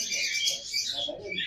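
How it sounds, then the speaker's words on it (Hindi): Green ringneck parakeets squawk at a bird market in Burewala, a brief burst of shrill, harsh calls fairly faint against a quiet background. "ये भी ग्रीन रिंगनेक का ब्रीडर पेयर है"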